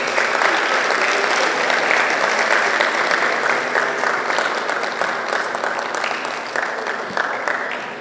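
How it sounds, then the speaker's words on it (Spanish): Sustained audience applause at a conversation event on women's political challenges, a dense wash of clapping from a full room that holds steady and slowly fades toward the end. "Un fuerte aplauso."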